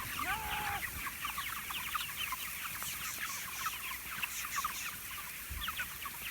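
A flock of pastured poultry chickens clucks and chatters steadily on fresh ground outdoors, many overlapping soft calls at moderate distance with a brief squawk near the start.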